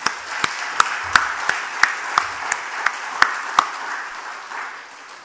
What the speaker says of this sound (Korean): 우리 하나님께 영광의 박수 돌립시다.